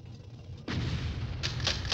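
A tank fires in the video game Army Men: Sarge's Heroes: a single heavy cannon blast hits sharply, followed by ringing rumble and a couple of fainter crackling bursts, with no talking.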